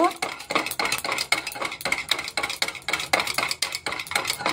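A utensil whisks strained yogurt briskly against a bowl, a rapid, steady train of close clicking, scraping beats with no pause across the whole stretch.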